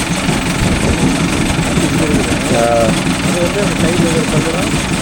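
The cutter chain running under a Mahindra Arjun Novo 605 crop cutter makes a steady rumbling, rattling drone under an engine, loud and continuous, while someone talks over it.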